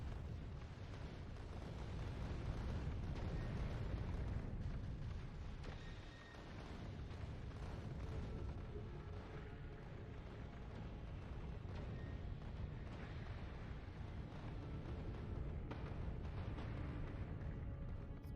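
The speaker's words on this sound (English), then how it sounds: "Cool to just shoot through these asteroids completely and make them break apart." Asteroids shot apart in the Factorio Space Age game, a dense, continuous rumble of layered explosions and bursting impacts, loud and sustained throughout with a brief dip midway.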